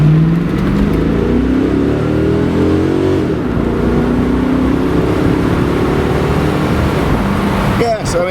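A 1995 Chevrolet Corvette Indy pace car replica accelerates hard to 70, its engine loud and close, climbing in pitch through the gears with brief shift breaks, with a voice speaking over it.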